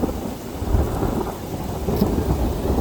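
Continuous rumbling thunder during a hailstorm with rain, a dense steady roar close by and loud throughout, without voices.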